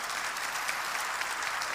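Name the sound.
audience applause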